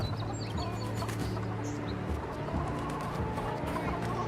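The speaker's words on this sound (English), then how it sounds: "Look at those chickens." Chickens cluck in the video game Avowed, soft repeated clucks and short calls over a steady, busy game ambience, fairly faint and continuous.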